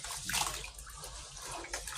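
Maize for pap is washed in a bowl of water, close splashing and sloshing as hands stir and rub the grain, with no speech.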